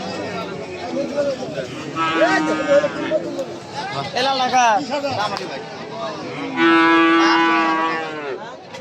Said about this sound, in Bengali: এটা দেশি ষাঁড় গরু, খুব সুন্দর গরুটা।